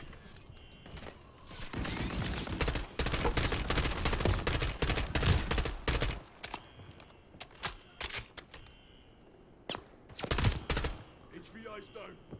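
Gunfire in the Call of Duty Modern Warfare 3 campaign, dense rapid bursts of automatic shots and sharp single cracks, loud and close, coming in clusters with brief lulls between volleys.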